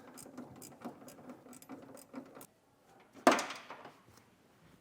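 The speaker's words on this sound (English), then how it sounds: "Now we're going to take a 19mm socket and tighten down our frame bolts that are going through the top of our frame rails." A ratchet with a 19mm socket tightens frame bolts through the top of a truck's frame rails, giving quick runs of close clicking, then a pause and a sharp metallic clunk.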